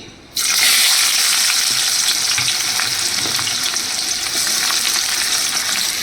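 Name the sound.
onions frying in oil with dried chilli tempering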